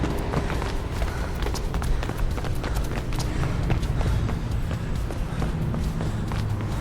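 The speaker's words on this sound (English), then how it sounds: "I hear footsteps, so I know there's somebody after me." Footsteps of a pursuer running in the Mirror's Edge video game, a fast, steady patter of quick steps that runs through the whole stretch over dense, busy game ambience, with no talking.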